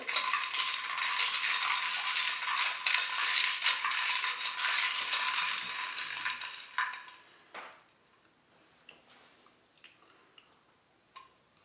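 A Kentucky bourbon mule being stirred, a close run of clinking and rattling as ice is swirled in the glass, busy for several seconds before it fades to a few scattered light taps, with no talking.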